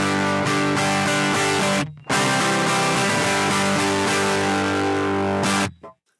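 Electric guitar played through a Fractal AX8 amp block with no cabinet simulation, giving a harsh, fizzy, buzzing distorted tone; loud chords ring out, break off briefly, then resume before cutting to silence.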